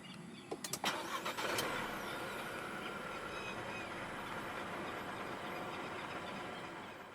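A few sharp clicks, then the 1.5-litre turbo engine of a 2023 Proton X50 starts by push button and settles into a steady, low idle that continues to the end.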